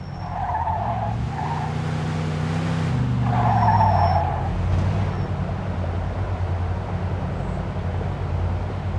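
A car in the Mafia 2 video game drives through a gate into a yard, with loud engine revving and tires skidding and squealing for several seconds before settling into a steady idle.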